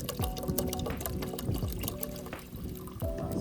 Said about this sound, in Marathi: आचार्याने पाणी घातलं जातं